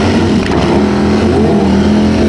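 A Kawasaki H2R superbike at a drag race, a loud, close engine roar with rising and steady whining harmonics throughout.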